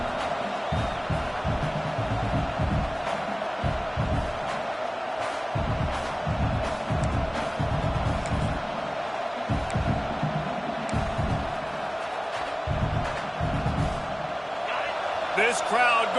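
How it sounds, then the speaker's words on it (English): Large football stadium crowd at a UCLA game roars and cheers steadily throughout, with a commentator talking over the noise. "This crowd going to try to make life miserable for these guys."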